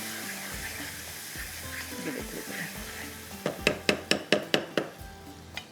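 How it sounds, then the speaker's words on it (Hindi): Green chillies frying in hot oil with black pepper, a steady sizzle and crackle under sharp clattering taps of a utensil against the pan near the end. "थोड़ा सा गरम ऑयल के अंदर ये फ्राई होगा तो इसका टेस्ट बड़ा मज़े का आ जाता है।"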